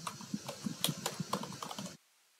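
Rapid clicks of a computer keyboard being typed on, a close, irregular burst of keystrokes for about two seconds before falling silent.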